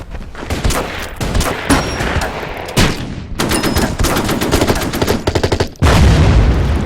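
Skirmish attack in the strategy video game Order of Battle, with loud, dense bursts of gunfire and rapid machine-gun rattles, heavy booms and volleys following one another in quick succession, no talking.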